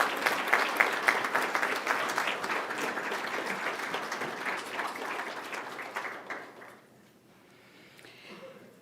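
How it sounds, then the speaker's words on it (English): Loud, sustained applause from a crowd at a scholarship award celebration, steady for several seconds and then dropping off sharply, with a few scattered claps trailing at the end. "please stand so that we can offer you a warm hand of applause"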